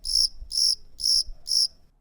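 A cricket chirps in four evenly spaced, bright trills about half a second apart, close and clear against near silence, used as a comic sound effect.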